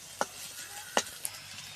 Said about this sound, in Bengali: চিকেন আর আলুটা শুধু তেলের উপরে এভাবে ভেজে নেব